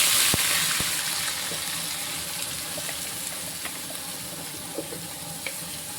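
Thick ground chutney paste is poured into a pan of hot tempering with urad dal, giving a steady wet pouring and sizzling hiss with a few soft clicks, close and moderately loud.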